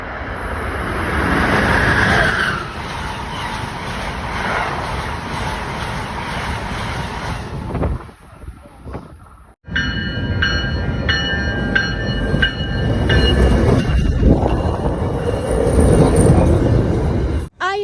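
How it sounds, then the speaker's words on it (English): A commuter train arrives at a station, its loud rumble and rolling wheel noise close by, followed by a brief lull and then a continued roar with high-pitched squealing brakes. "Train approaching. Please remain behind yellow line."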